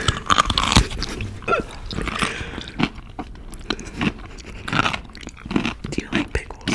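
Crunchy bites and chewing of spicy food, close to the microphone, repeated over several seconds with busy mouth noises and bits of talk mixed in.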